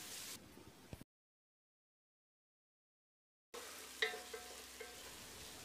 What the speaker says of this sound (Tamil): தக்காளி மசியிற அளவுக்கு வதக்கிடலாம்.